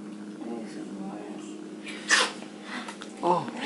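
A single sharp sneeze bursts out midway through quiet indoor chatter, followed shortly by a second brief burst as talking resumes nearby.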